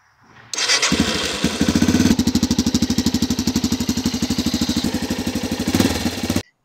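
Yamaha TTR230 dirt bike on its stock exhaust, catching and settling into a steady, even thumping idle, close and moderately loud, alone.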